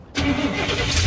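A 1967 Cadillac hearse engine cranks and catches as someone tries to start it, a loud steady churn with a low idle-like rumble that keeps going after a brief quiet opening.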